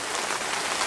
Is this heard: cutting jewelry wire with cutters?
no